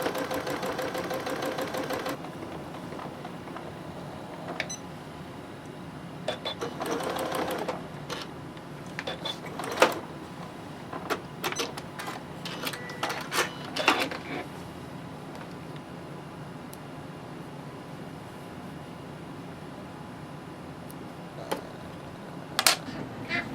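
A sewing machine stitches binding onto a quilt in short, steady runs of rapid mechanical whirring, broken by pauses and small clicks as the fabric is adjusted.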